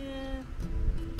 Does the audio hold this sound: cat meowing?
yes